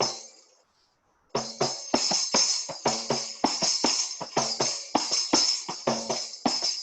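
A kanjira frame drum for Sai Bhajan accompaniment is played at a brisk tempo, with a quick, steady pattern of sharp slaps and jingling taps repeating close and clear after a short pause.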